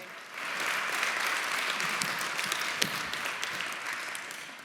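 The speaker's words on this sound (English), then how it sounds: "So, just a little round of applause." A podcast audience applauding, a steady, fairly faint wash of many hands clapping that holds evenly for several seconds without voices.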